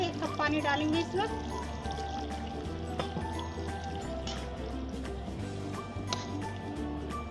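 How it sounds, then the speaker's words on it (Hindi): One cup of water is poured into shahi chicken korma as it cooks with almonds, a splashing pour under a person talking, with faint clinks around it. "देखिए 1 कप पानी डालेंगे इसमें।"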